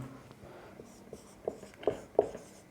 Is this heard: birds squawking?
no